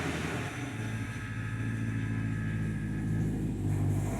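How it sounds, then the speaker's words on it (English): A BMW S65 V8 engine in an E9X car with newly replaced throttle actuators starts and idles, giving a loud, steady low rumble close to the car. "Now with the car reassembled, we are now going to test and turn on the car."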